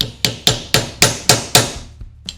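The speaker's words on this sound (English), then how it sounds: "I like to put a little lubrication in before I try to drive a bushing." Sharp metallic hammer blows drive a bushing into a GM starter, about seven close, evenly spaced strikes, then a pause and a fainter final tap, with no talking.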